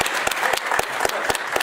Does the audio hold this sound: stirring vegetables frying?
no